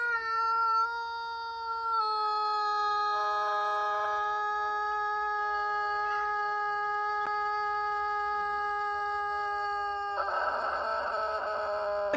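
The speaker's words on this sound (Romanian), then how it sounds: "Un cocoș poate să cânte un cucurigu lung de" A Denizli rooster, a Turkish breed known for long crowing, holds one unbroken crow for about ten seconds: a steady, tonal, drawn-out call that ends in a rougher burst.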